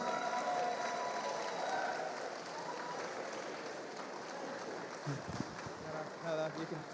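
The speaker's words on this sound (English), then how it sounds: "Thank you for that spontaneous round of applause." A crowd at the Festival of the Force fan event gives a sustained round of applause as guests come to the stage, fairly distant and even for several seconds, tapering slightly with crowd murmur near the end.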